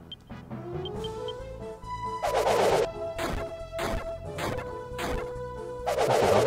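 Heavy hitting impacts from the PlayStation game Dragon Quest VII land as several loud crashing thwacks, spaced about a second apart, over a quieter bed of sustained game tones and music, with no talking.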